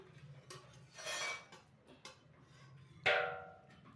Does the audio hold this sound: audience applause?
no